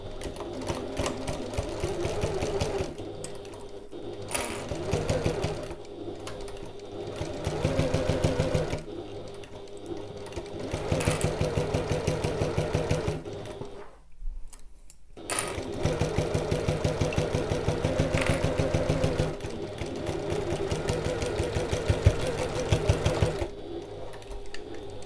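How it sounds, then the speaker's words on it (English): Domestic sewing machine running close top stitching on a fabric satchel, a steady fast mechanical whir in long bursts with brief pauses and one full stop midway, close and fairly loud. "I'm just going to do a close top stitch."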